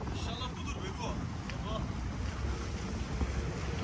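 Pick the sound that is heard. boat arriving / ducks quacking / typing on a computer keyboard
boat arriving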